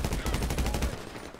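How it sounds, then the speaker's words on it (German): A burst of rapid gunfire in Grand Theft Auto V, loud and dense, fading out after about a second. "Wow, was ein Schuss, ey."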